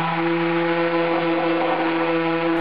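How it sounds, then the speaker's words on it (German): A random orbital sander works over oak boards for a wood-heated hot tub bathhouse, giving a loud, steady motor buzz with a strong hum and even sanding noise, close up, with no speech. "Dann geht es mit dem Exzenterschleifer weiter."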